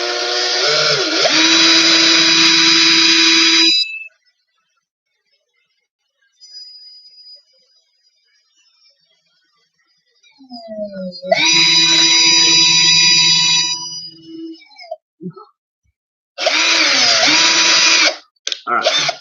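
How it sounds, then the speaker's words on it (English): A power drill bores through a piece of material in loud whining bursts of several seconds each, separated by quiet pauses and brief softer noises between runs. "Such as a drill, for example."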